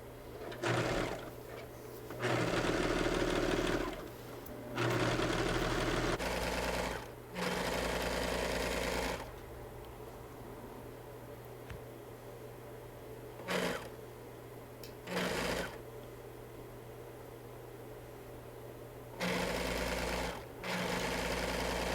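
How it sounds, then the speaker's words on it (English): A serger motor runs in several loud, steady bursts of a few seconds each, stitching hoodie shoulder seams, with quieter pauses between runs as fabric is fed through. "Shoulder seams run through the serger."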